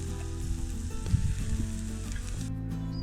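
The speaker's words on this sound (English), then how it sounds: "We then grilled some vegetables and steak" Vegetables and steak sizzle on a grill at a cabin in Scotland, a soft steady fizzing crackle under a low constant hum, with no voices.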